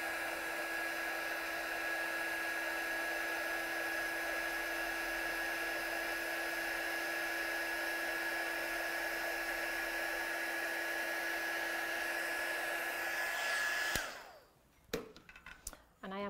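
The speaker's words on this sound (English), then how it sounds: "I'm just heat setting this one here in white" A heat gun blows a steady, loud whirring hiss with a high whine while heat setting white embossing powder on a stamped card, then cuts off abruptly, followed by brief clatter and handling noises.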